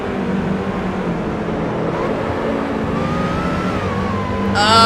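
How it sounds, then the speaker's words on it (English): Race car engine in Assetto Corsa, a steady loud drone with shifting revs and a rising whine as the car is pushed, ending in a sharp high-pitched squeal. "Okay, now I'm gonna try pushing the car now."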